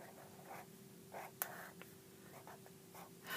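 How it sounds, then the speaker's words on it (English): Pen strokes on paper for a math division problem, a series of short soft scratchy bursts, faint and close, with one brief sharper tap partway through. "let's write it down"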